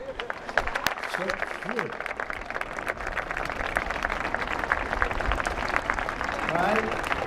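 Children applaud their parents in a room full of press members, scattered and uneven clapping that builds toward the end, with adults talking and murmuring over it.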